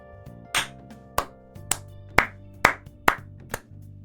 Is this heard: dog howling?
no